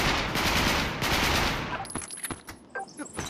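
Gunfire in a video game shooting match, a dense burst of rapid shots at first, then a handful of sharper separate cracks with quieter gaps, no talking.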